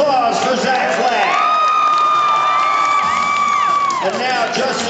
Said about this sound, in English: How about a round of applause for Zach Flatt?